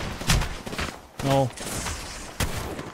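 Gunfire in the Apex Legends video game: several sharp, loud shots in quick, uneven succession, some booming bursts with gaps between them, mixed with game sounds and a player's voice.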